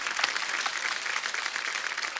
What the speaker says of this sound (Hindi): एक बार जोरदार तालियां रवि भैया और मनोज भैया के लिए।